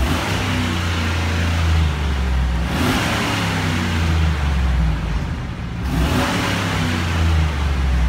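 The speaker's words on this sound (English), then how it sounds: "So we can't rev them like we do the Gen 3 stuff, but we like to give them a couple" A 6.0L Chevy L96 Gen 4 V8 from an 2011 Silverado K2500HD with 163K miles, running on a stand, revved in a couple of loud, close blips over a steady idle rumble.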